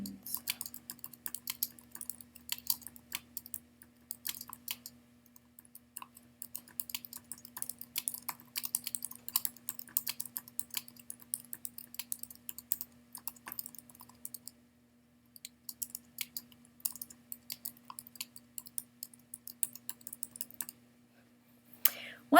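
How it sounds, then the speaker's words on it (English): Fingers tap steadily on a computer keyboard, a quiet, close stream of light clicks that runs for over twenty seconds with only brief pauses. "And then you just have to type"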